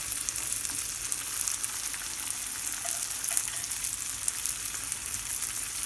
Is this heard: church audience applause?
no